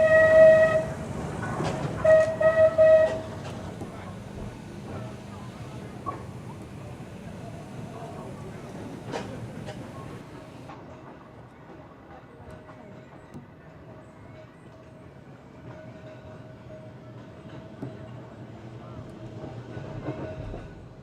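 A heritage tram running at Crich Tramway Village, with a louder passage of rumble and clatter at the start, then a steady moderate rolling rumble carrying through to the end.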